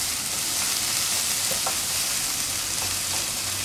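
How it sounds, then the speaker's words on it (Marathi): Garam masala and other spices sautéing in a pan for a drumstick amti, a steady close sizzle with a couple of faint stirring scrapes and no voices. "हे सुद्धा व्यवस्थित परतून घ्यायचं आहे।"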